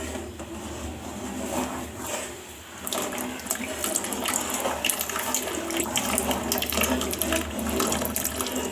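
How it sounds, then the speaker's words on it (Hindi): Custard paste being poured little by little into a pan of sugar-dissolved milk while stirring, heard as a steady wet, watery wash with clinks and scrapes running throughout, close and fairly loud. "अब मैं ये कस्टर्ड पेस्ट को मैं थोड़ा थोड़ा करके डालूंगा और साथ साथ आपने हिलाते जाना है।"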